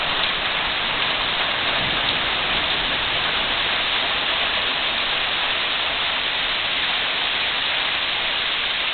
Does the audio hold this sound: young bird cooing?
no